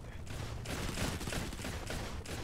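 Rapid gunfire from the mobile shooter Modern Combat 5, dense overlapping shots and bursts rattling continuously and loudly throughout, with no pauses between volleys.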